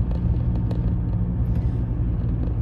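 A car drives along a road with a steady, close low engine rumble and road noise, no speech over it.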